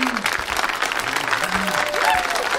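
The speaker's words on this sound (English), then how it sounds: "how about a nice round of applause for my main man D from Lil Benny and Lemon, man." Audience applause at a live show breaks out and continues steadily, with cheering voices and a host's speech audible over the clapping throughout.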